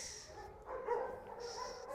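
A dog gives a faint, muffled bark or yelp in a quiet setting, brief and somewhat distant, with no voices over it.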